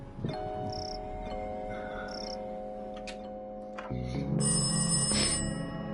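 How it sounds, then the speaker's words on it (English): An old telephone rings in the point-and-click video game Darkside Detective, a repeated bell ring over a quiet ambient background hum, growing slightly louder toward the end. "Oh, that's a phone and it's ringing."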